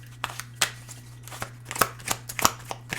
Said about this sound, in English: So let's grab another card here.